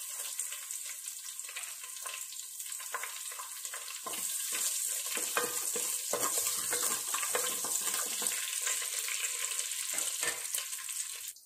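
Mustard seeds and garlic sizzling and popping in hot oil for a Tulunadu-style stingray fish gravy, a steady close crackle that grows louder partway through as more goes into the pan.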